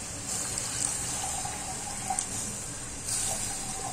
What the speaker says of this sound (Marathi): आणि अजून थोडं त्यात कोमट पाणी घालूया.